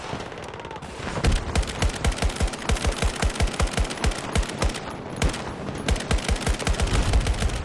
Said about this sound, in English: Little birds buzzing overhead, hitting them with LMGs